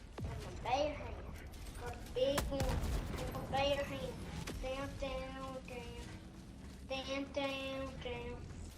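The LAS-98 laser cannon fires in a video game, giving a series of sharp, loud bursts that repeat over several seconds and mix with clanking mechanical effects and a voice.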